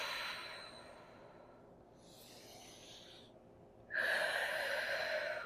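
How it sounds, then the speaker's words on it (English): Slow, deep breaths during a floor stretch: a long audible exhale through the nose, a quieter pause, then a strong, rushing breath close to the mic. "Big deep breaths, expanding the rib cage."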